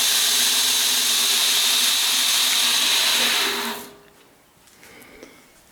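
A homemade 2x72 belt grinder on a variable frequency drive runs with a loud, steady whirring hiss. It winds down abruptly and falls quiet at about four seconds, leaving faint handling noises.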